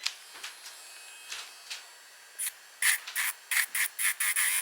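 A baby sleep toy plays its sound as a soft, quiet series of short airy shushing bursts, sparse at first and then in a quicker, regular rhythm, with no talk.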